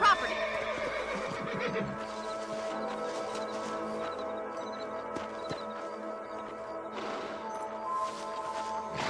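Horse neighing in the Red Dead Redemption video game, a whinny rising over continuous music and ambient game sound, moderately loud, with faint hoof clops.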